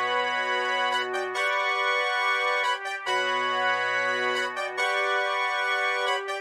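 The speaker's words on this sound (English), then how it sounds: "I used the 23 trumpet section" A dry FL Studio trumpet section plays a sustained brassy melody without effects, held chords shifting every second or so with brief breaks between phrases, loud and alone.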